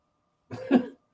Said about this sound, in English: My dog coughing up hairballs.